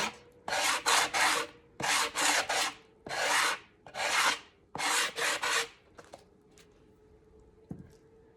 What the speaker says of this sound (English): we're gonna start off by sanding